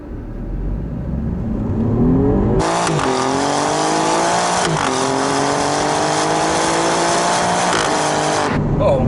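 A 2017 Alfa Romeo Giulia Quadrifoglio with a Ferrari-derived twin-turbo 2.9-liter V6 accelerates hard from inside the cabin, engine roaring and climbing in pitch through several gear changes, loud and sustained.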